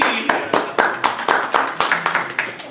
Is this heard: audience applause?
yes